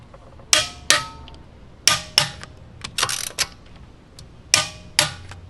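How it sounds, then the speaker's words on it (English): A torque wrench tightens the lug nuts on a Tesla wheel to 129 foot-pounds, producing sharp ratcheting clicks that come in close pairs several times, with softer clatter and handling noise in between. "So now we're going to torque our lug nuts to 129 foot-pounds."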